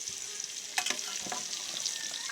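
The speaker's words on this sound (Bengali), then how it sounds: "চলুন বন্ধুরা আলু ভাজতে থাকি।" Potatoes fry in hot oil while being stirred, a continuous bright sizzle with a few sharper scraping clicks of the spatula partway through, close and steady without talk.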